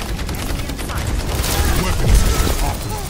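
Rapid gunfire in a first-person shooter game, a dense rattle of shots with a deeper impact near the end, heard under a player talking.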